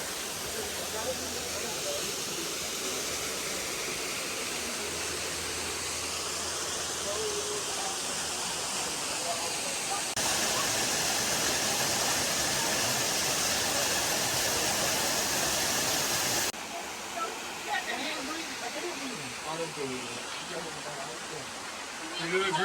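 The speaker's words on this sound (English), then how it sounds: "Welcome from the actual waterfall." Waimano Falls on Oahu, Hawaii, pours with a constant broad rushing roar, loud and close, swelling even louder midway before easing slightly.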